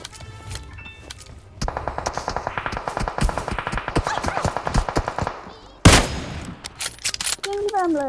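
Rapid automatic gunfire in the mobile battle royale game PUBG Mobile, a steady string of close, loud shots running for several seconds, then a sharp burst, with a voice talking over parts of it.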